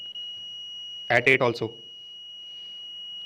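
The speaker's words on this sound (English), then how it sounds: "if I will move at 10, the buzzer will turn on" An Arduino ultrasonic distance alarm's buzzer holds a continuous high steady tone through the whole clip. A short spoken phrase breaks in partway through.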